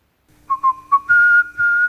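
A person whistles a lilting tune while washing in a bathroom, a few short rising notes followed by longer held tones, close and clear with faint splashing underneath.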